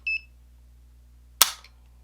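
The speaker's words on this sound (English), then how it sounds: "I'm going to be pulling from the bottom of the trigger." A single sharp click of an AR-15 fitted with a Timney trigger as it is pulled and breaks, preceded by two short electronic beeps from a gauge, in an otherwise quiet room.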